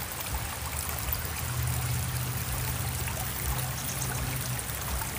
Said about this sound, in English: I'm in the middle of a river